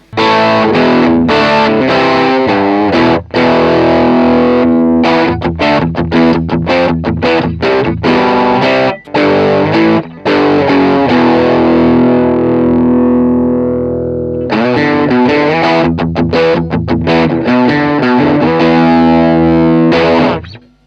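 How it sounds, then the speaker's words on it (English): Loud, gritty overdriven electric guitar through a Peavey Bandit 65 solid-state amp with pre-gain fully up, playing chords and riffs with a saturated, crunchy tone, with brief pauses between phrases. "I think that's a great overdrive sound for a solid state amp especially."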